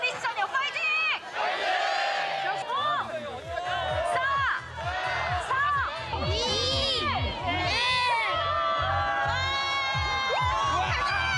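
A loud crowd cheers, whoops and shouts, children's voices among them, as swimmers plunge into the sea at a New Year penguin swimming event in Jeju, with continuous overlapping chatter throughout.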